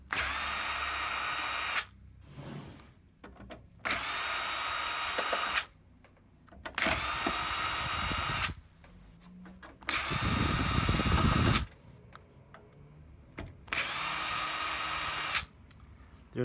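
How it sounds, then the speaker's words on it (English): A power screwdriver backs Torx T10 screws out of the top cover of a TiVo Series3 unit, whirring in about five loud, even bursts of a second or two each, separated by brief quiet pauses, close up. "you're going to start by removing the 6 Torx T10 screws"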